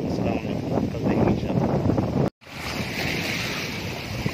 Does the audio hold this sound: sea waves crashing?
yes